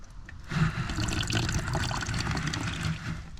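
Water gushes and splashes steadily as a mop is squeezed out by the metal wringer of a JOYMOOP mop bucket, a close, continuous wet rush.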